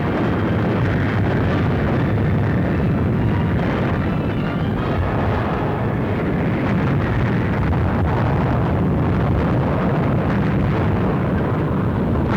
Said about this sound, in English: Allied warships move into range of enemy fire and turn their big guns against the fortress batteries of Cherbourg